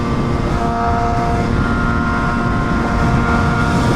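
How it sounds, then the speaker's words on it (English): A BMW HP4 Race motorcycle engine screams at high revs, a loud, close, steady drone with a constant pitch and no pauses for the whole stretch. "The bike is just screaming."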